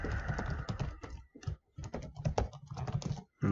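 Fingers tap steadily on a computer keyboard at close range, a quick run of clicking keystrokes with a couple of brief pauses and a final firmer press like hitting enter.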